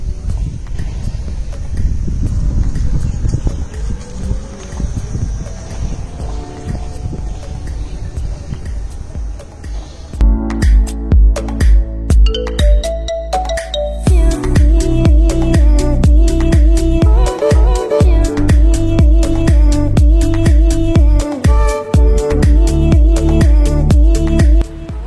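Steady wind rush and road noise while riding a Gesits electric motorcycle, a softer buffeting first half giving way to a louder, denser stretch with a faint rising whine, continuous and close.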